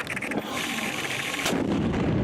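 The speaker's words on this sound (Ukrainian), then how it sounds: "Постріл!" A loud artillery shot booms about halfway through on the front line near Soledar, its blast and rumble cutting through a steady background roar, then fading slowly.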